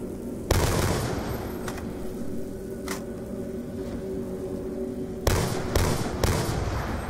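Gunfire in the Black Ops 1 version of a zombies video game: a loud burst of shots near the start, a few isolated shots in the middle, then another cluster of rapid shots near the end over a steady game background hum.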